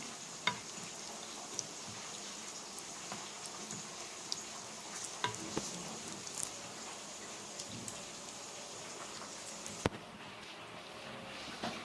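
Steak and green beans cooking with turmeric in a pan, a soft steady sizzle with scattered light clicks and scrapes of stirring, fairly faint.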